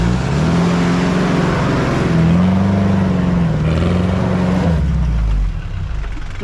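A Mahindra Scorpio 4x4 climbs a hill off-road, its engine droning loud and steady with the pitch rising and falling as it pulls, then the effort eases near the end.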